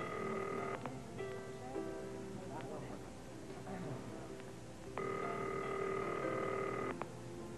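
An indoor telephone rings in two long trilling bursts separated by a pause, with quiet voices in the background.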